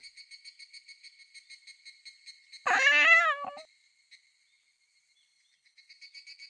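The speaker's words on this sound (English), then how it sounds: "A black cat purrs as it crosses right in front of me." A black cat gives one loud, drawn-out meow close by, breaking through a steady chirp of crickets that fades and then returns.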